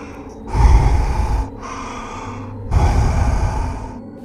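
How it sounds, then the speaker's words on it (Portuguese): Heavy, ragged panting breaths close up in a horror story, two long labored gasping exhalations separated by a short pause, loud and breathy. "eu ouvi um barulho de respiração ofegante"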